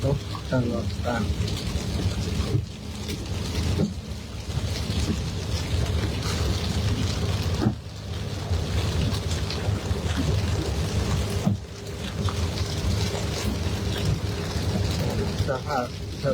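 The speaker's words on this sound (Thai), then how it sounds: "เสียงฝนตกตลอดทาง" Rain falls steadily throughout a road journey, a dense continuous hiss with low rumbling, as if heard from inside a moving vehicle, with a few brief breaks and a voice faintly present.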